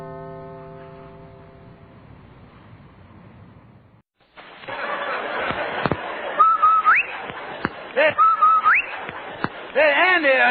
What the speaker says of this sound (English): Did you hear that, the whistle?